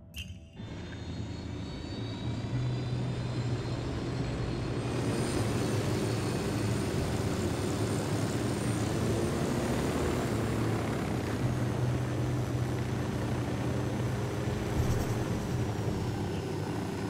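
A steady, droning aircraft engine hums continuously as the craft flies in Ghost Recon Wildlands, loud and unbroken throughout with no talking.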